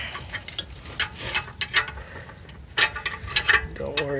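A ratchet wrench works a rear brake caliper bolt on a 2011 Nissan Murano, producing close, sharp metallic clicks in short irregular bursts with small clanks between them.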